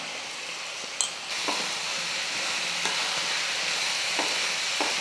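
Masala being stirred into country chicken fry in a pan, with a steady sizzle and occasional scraping and clinking of a spoon against the pan, close and continuous.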